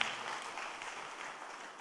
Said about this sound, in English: Let's give a big round of applause for their kind attendance to this program.